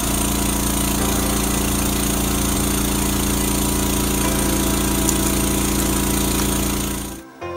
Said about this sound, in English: So let me show you how Walker's jackhammer works.